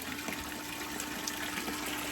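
Water runs steadily through gold prospecting equipment being fed material, a continuous close wash of flowing liquid with no break and no voices.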